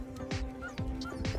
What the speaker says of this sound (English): How are the dogs? They're nice. The back ones are really loud though.